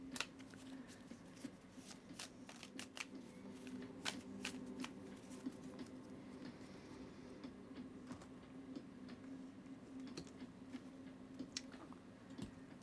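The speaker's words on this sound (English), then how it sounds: "I'll go ahead and give the deck a great shuffle for you" A Light Seers Tarot deck is shuffled by hand in a steady run of soft riffling slaps and card snaps, close and quiet, with no talking.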